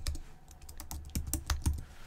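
Rapid keystrokes clatter on a computer keyboard, a quick irregular run of soft clicks and taps heard close and fairly quiet, with no voices.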